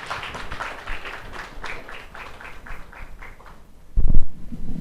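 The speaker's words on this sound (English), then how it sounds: "Can we please have a big round of applause?" Audience at a business HR summit applauding after a panel, a steady patter of clapping hands that fades out, followed by a louder low thump or handling noise near the end.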